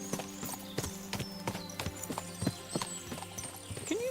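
Horse hooves clip-clopping at a steady walking rhythm in the medieval video game Kingdom Come: Deliverance 2, several animals with a brief whinny near the end, under a low droning game backdrop.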